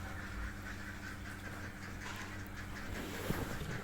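A flock of laying ducks kept in a dry pen with rice-husk bedding quacks in a low, faint murmur over steady ambient hum, with no clear individual calls standing out.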